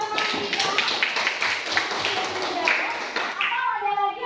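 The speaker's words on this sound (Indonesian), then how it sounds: "Berikan tepuk tangan kepada ketua teman kita." Schoolchildren in a classroom clap for a classmate, a dense, steady patter of many small hands lasting several seconds, with children's voices and chatter mixed in throughout.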